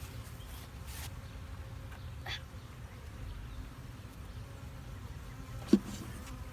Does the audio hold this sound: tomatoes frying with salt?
no